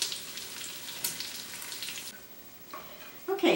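Creamy potato soup simmers on a stove burner with a soft, steady bubbling hiss, broken by a few brief louder splashes or clinks near the end.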